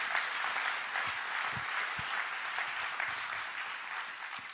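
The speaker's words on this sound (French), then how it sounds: "Et Alain, je crois qu'on peut l'applaudir" Steady applause from an audience at an association's general assembly, a continuous even patter of many hands clapping at moderate distance, sustained throughout with no talk over it.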